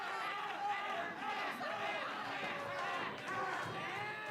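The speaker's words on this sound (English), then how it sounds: "Crowd mocking Thomas." At an independent wrestling show, the crowd jeers and chants at a wrestler, a loud mass of overlapping voices rising and falling in a hall, with close commentary talk on top.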